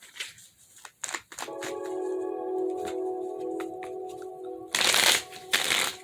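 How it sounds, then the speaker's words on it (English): Tarot cards shuffled by hand in quick riffling bursts, close and crisp, with a steady electronic tone sounding underneath for a few seconds before two louder shuffles near the end. "5 shuffles."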